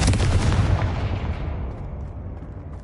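A Confringo fire spell explodes in Hogwarts Legacy, a loud booming blast with crackling burst that rolls off into a fading rumble over a few seconds.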